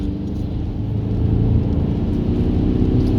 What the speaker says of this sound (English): So turbo's kicked in, into third